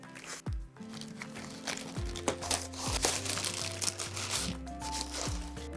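Florist's paper or cellophane bouquet wrapping being folded and secured with tape, giving close, irregular crinkles and rustles with soft handling thumps throughout.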